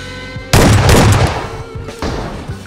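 Gunfire in the video game PUBG comes in two sharp, loud bursts, the first heavy and booming and the second shorter, with no talk over them.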